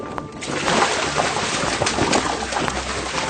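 Foley water sloshing and splashing in a tub to mimic a boat moving through water, with continuous churning and slapping splashes close up throughout.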